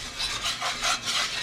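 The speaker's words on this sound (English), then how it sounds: "stirring constantly so it don't burn" A spoon scrapes steadily around a pan of flour roux for chicken and sausage gumbo, giving a soft rhythmic rasping of about six strokes, close and alone.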